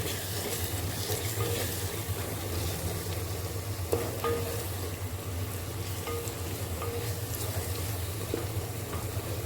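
Chicken pieces with coriander, cumin and turmeric masala sizzle steadily in a clay pot, a constant frying hiss with occasional scrapes of stirring and no talk.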